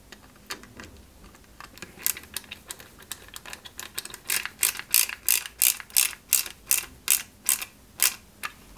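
Small screws are driven into a 1/8-scale 2003 Subaru Impreza WRC model kit, giving a steady run of crisp clicking ratchet-like ticks that grow louder and more regular toward the end, with no voices.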